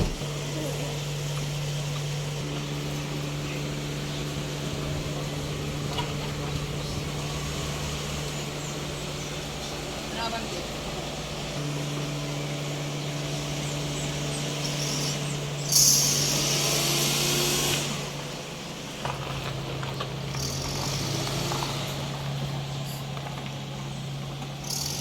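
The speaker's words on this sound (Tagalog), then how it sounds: "So K60 engine D64W turbo." A Suzuki K6A turbo engine idles in a DA64W van with an overheating problem, a steady close hum with a constant low drone throughout and a brief louder rush partway through.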